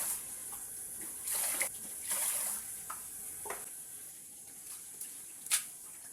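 Running water from a tap splashes onto rice as it is rinsed for cooking, a steady soft trickle with a few brief louder gushes and splashes, heard close and alone without talk.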